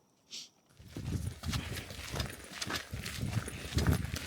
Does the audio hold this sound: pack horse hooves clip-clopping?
yes